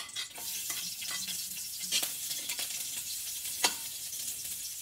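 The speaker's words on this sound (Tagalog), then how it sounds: "ilalagay na natin yung ating bawang" Garlic dropped into hot oil in a home kitchen pan, giving a bright hissing sizzle with a few sharp crackles and spoon scrapes as it is stirred, close and alone.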